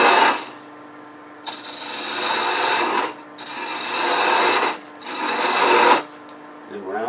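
A wood lathe turns a wooden piece for a bug pull toy as a tool cuts it down, giving three long rasping scraping passes with brief pauses between them, close and steady.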